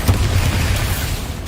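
Heavy spell explosions from Confringo and Bombarda in the Hogwarts Legacy video game, a dense low rumbling boom sustained loudly throughout with no clear breaks.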